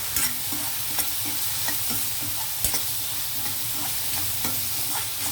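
Taro pieces with turmeric and salt sizzling in a pan for a prawn curry, a steady close frying hiss broken by regular scrapes and taps of a spoon stirring.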